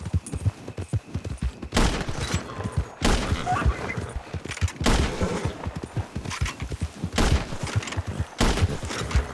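Gunfire in the Red Dead Online game, loud bursts of shots and booming blasts in repeated volleys, dense and close, with no talking.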